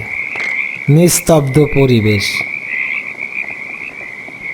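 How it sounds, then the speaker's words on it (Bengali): Frogs croak in a steady chorus amid rain in a bamboo grove, the sound effect of an animated Bengali horror story. The croaks run throughout, and someone speaks briefly over them. "চতুর্দিকে ব্যাঙেরা ডাকছে"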